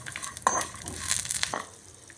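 Green chillies and curry leaves fry on a low flame, giving a soft sizzle with a few stirring scrapes and light pan clicks over about two seconds.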